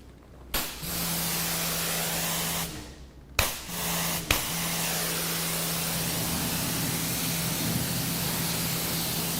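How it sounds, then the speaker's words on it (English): Water spray rinsing car tires, a close, steady hissing jet that stops briefly a couple of times and then runs on continuously, with a faint low hum beneath. "All right, here we go, rinsing."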